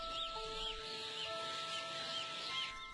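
Chickens clucking and chirping in a steady, noisy industrial setting where discarded chicks are thrown into containers with eggshells, with a constant mechanical hum and tonal whine beneath the birds.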